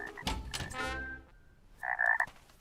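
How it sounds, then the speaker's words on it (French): A cartoon toad croaks, a few throaty rasping calls followed by a brief tonal bleat, close and clear against quiet, with no talking. "Un crapaud?"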